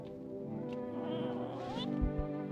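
A cat meows in the horror video game No, I'm Not A Human, with a drawn-out, rising mew over a steady low ambient game drone.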